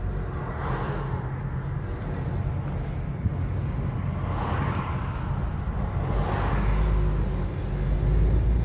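A car driving on the road, heard from inside as a steady low rumble of engine and tyre noise that swells slightly toward the end, with no talk.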